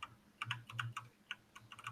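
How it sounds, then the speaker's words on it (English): Keys clacking on a computer keyboard in quick irregular bursts, fairly close and quiet, with no talk over them. "Sean and Gio, whoever the fuck is typing"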